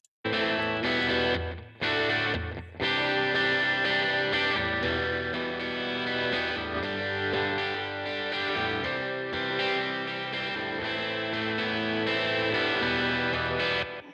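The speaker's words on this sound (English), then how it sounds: "you should start hearing the audio moving right and left when we get to that point" Distorted, effected music track with guitar and chorus-like processing plays continuously, its stereo position swept by panning automation from left to right and back; loud and sustained, with a couple of brief dropouts near the start.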